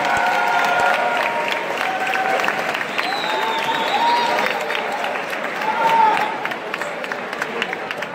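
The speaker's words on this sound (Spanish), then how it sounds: "Molim vas aplauz velike." A festival party crowd claps steadily in sustained applause for a guest, a dense wash of hand claps with scattered shouts and voices mixed in throughout.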